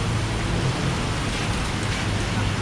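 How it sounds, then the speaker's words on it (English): Light rain falls on a street in Macau, a steady, even wash of soft hiss close by with a low rumble of distant traffic underneath, with no clear voices. "A little raindrops on here."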